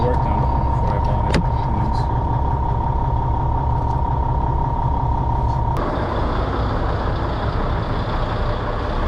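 Cummins-style N14 truck engine with a million miles, idling smoothly in a steady low rumble, with a faint tone and brief clicks over it.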